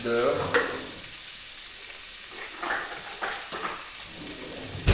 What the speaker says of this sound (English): we're gonna butter the pan